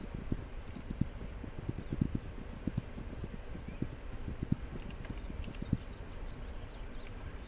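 Horse hooves clip-clopping in the This Land Is My Land video game, a steady run of loud, repeated footfalls over a rustling outdoor background, with no voices.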